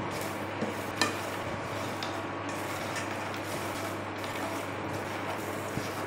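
Fox nuts are tossed with peri peri masala in a pan off the heat, a soft continuous rustle of stirring with a few light clinks of the spoon, faint and close, no speech.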